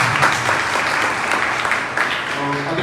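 An audience at a public meeting in Bhopal claps steadily and evenly for a few seconds, a dense, continuous round of applause.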